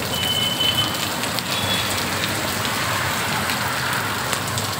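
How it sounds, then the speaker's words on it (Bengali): Heavy rain pours down in a dense, continuous hiss, with a faint beeping briefly audible in the background. "দেখো মুষলধারে বৃষ্টি হচ্ছে।"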